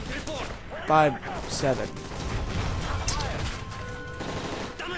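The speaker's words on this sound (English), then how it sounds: "That's gunfire! Gunfire." Call of Duty Modern Warfare 3 gunfire erupts in rapid bursts and sharp single shots, loud and close, amid shouting voices and a chaotic game-combat soundscape.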